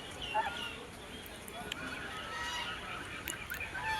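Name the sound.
geese honking at temple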